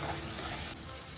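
Hot water pours into a simmering curry, a steady broadband gush that runs for about three-quarters of a second and then thins to a softer trickle.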